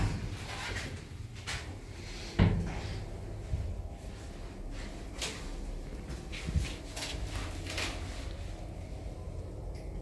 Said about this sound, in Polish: Tylko długo czeka na zamknięcie drzwi.